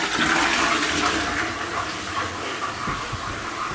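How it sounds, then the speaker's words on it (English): A household toilet flushes nearby in a home with a broken-down boiler and heating system, a loud rushing gush of water that gradually eases into a hissing refill. "Flush the toilet to make sure."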